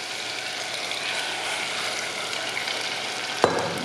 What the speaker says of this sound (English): as you hear the sizzling